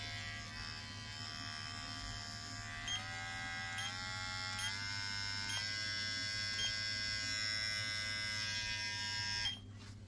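A Slopehill electric hair clipper runs with a steady high-pitched motor buzz, close and continuous. Its pitch steps up a few times as the speed changes, then it cuts off near the end, with no voices.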